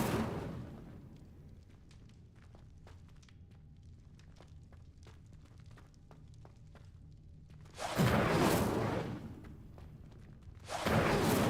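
Incendio fire spell cast in Hogwarts Legacy, a loud whooshing burst of flame that swells and fades, then a second burst, after a quieter stretch of footsteps and light ambient taps.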